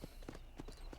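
Horse hooves clip-clop in a steady, even rhythm in the Western video game Red Dead Redemption, fairly close but soft, with no one talking.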